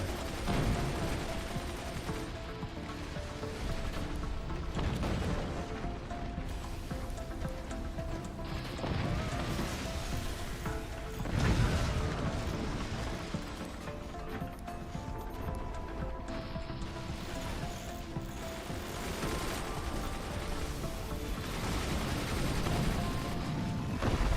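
Machine gun wall fire in the physics-based strategy game Forts, dense overlapping bursts of rapid gunshots and impacts running continuously and loudly under a thick battle din, with a few heavier crashes.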